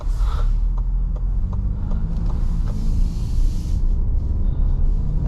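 A 2023 Lincoln Nautilus Black Label with a 2.7 twin-turbo engine drives along, giving a steady low cabin rumble and road drone with faint ticks over it.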